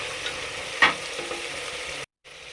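Vegetables with green peas and tomato being sautéed in a pan for vegetable pulao, a steady close sizzle with one sharp stir scrape near the start, then a brief cut to silence.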